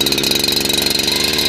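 A Husqvarna 365 chainsaw fires on a cold start with choke pulled, its engine running loud and close in a fast, even two-stroke pulse for about a second and a half.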